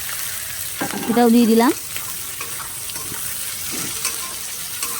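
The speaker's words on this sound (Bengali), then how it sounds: "এটাকে এবার ভালো করে অলরেডি ভেজে নিতে হবে।" Capsicum and chilli with turmeric frying in a pan, a steady close sizzle with stirring clatter, briefly interrupted by a short spoken phrase.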